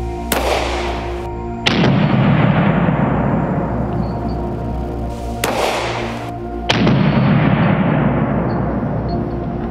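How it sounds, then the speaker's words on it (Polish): Two loud firearm shots blast at padlock targets, each a sharp crack followed by a long booming decay over a steady low hum, spaced several seconds apart. "No to co, strzelamy jeszcze raz."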